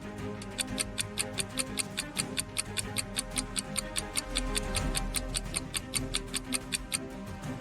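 A clock above a door ticks in a crisp, perfectly regular rhythm of about four ticks per second, close and steady over a faint low hum.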